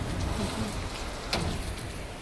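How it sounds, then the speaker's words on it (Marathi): Steady, dense rain hiss fills the whole clip, loud and continuous, with a brief brighter splash partway through. "खूप पाऊस पडतोय"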